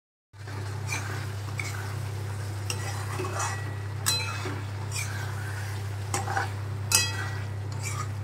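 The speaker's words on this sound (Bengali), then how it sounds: "এবার চিংড়ি মাছগুলোকেও দিয়ে দেব, এর সাথে এই মশলাটার সাথে একটু নাড়াচাড়া করে নেব" Steady sizzle of prawns frying in spice masala in a pan, with a spoon scraping and clinking against the metal every second or so, close and continuous under a low hum.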